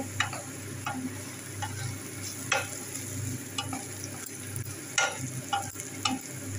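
Food frying in oil in a pan while being stirred: a steady close sizzle is broken by regular scraping, clicking strokes of a spatula, with no talking.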